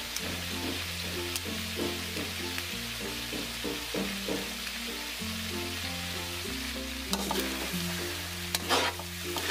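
Chicken feet adobo with oyster sauce sizzles steadily in a pan while being stirred, with a constant frying hiss and soft scraping of the stirring. Background music plays throughout and no one speaks.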